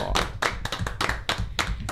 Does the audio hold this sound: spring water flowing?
no